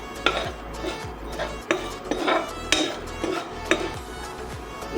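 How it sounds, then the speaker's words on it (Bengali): A utensil scrapes and clinks against a dry wok while whole cumin, coriander seeds and three dried chillies are roasted and stirred. The strokes come as a steady series of sharp metallic scrapes and taps, close and with no talking. "1 চামচ গোটা জিরে, 1 চামচ গোটা ধনে আর 3টে শুকনো লঙ্কা। এটা আমি খুব ভালো করে শুকনো কড়ায় ভেজে নেব।"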